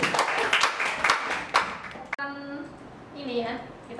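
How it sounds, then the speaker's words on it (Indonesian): A class applauds briefly after a group presentation, with scattered clapping under a teacher's voice that stops abruptly partway through, followed by quieter talk. "Oke, beri tepuk tangan dulu ya."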